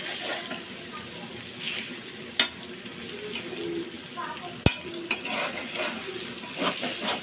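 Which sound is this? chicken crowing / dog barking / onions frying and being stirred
onions frying and being stirred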